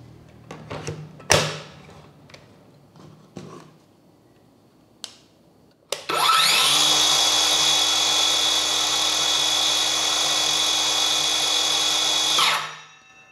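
A DCA ADMY165 cordless brushless circular saw spins up with no load and runs as a steady loud high-pitched whine for several seconds, then winds down. Scattered handling clicks and knocks come before it starts.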